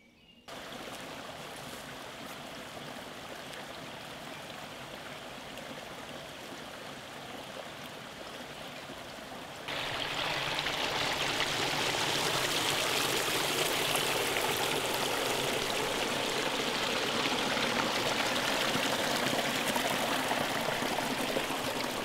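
A brook in the Baden-Württemberg countryside flows and babbles steadily close by, its rushing water swelling louder partway through as the walker moves upstream along the bank.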